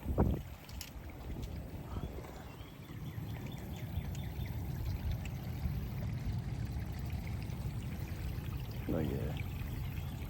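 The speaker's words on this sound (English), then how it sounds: "Get by that good running water." Running water pours and splashes steadily outdoors, a continuous rushing wash with some wind noise, while someone speaks briefly over it.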